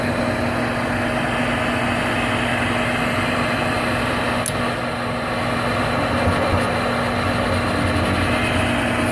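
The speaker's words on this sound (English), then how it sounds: "We got the igniter going." Gas furnace igniter and burner running during a no-heat repair with the cover off, a steady loud whooshing drone with a constant low hum and one faint tick partway through, no speech.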